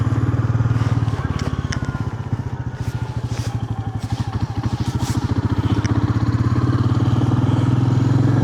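Royal Enfield Meteor 350 motorcycle ridden on the road, its single-cylinder engine giving a loud, steady pulsing thump close to the mic, with wind rush and someone talking briefly.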